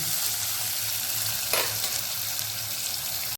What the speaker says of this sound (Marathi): त्याला व्यवस्थित आपण परतून घेऊया